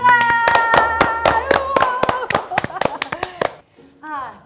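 Children in a classroom quiz show clap together after a correct answer, a run of sharp claps with voices over them, then a brief pause before someone speaks.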